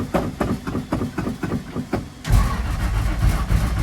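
An old vehicle's engine cranks with a rhythmic, labouring starter churn for about two seconds, then a louder, rough broadband rush of engine noise takes over, close and steady to the end.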